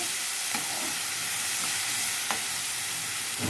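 Onions and green chillies frying in a pan, a steady bright sizzle with a few soft stirring clicks and scrapes, close and continuous without talk.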